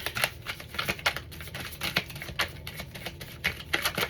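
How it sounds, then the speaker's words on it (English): Quick, irregular riffling and soft snapping of cards being shuffled close up, in short bursts with no talking. "I've already shuffled these cards, but it's a habit that I still do it while I'm reading"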